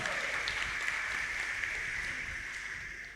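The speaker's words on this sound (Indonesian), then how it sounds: "Kita beri tepuk tangan yang sangat meriah buat 4 regu ini." Sustained applause from a crowd at a national Catholic religious quiz competition, a steady wash of clapping that gradually tapers off toward the end.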